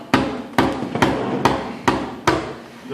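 Palm strokes on a Latin percussion hand drum: five sharp, evenly spaced hits, each a close, punchy thud with a short decaying ring, played alone with no talk.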